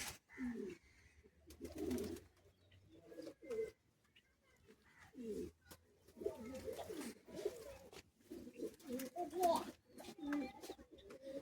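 Pigeons coo repeatedly in a Bagnan loft, with soft rolling calls recurring in bursts throughout, fairly close, alongside a voice talking at intervals.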